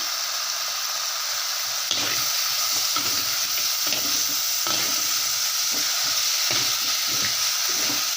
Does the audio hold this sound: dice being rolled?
no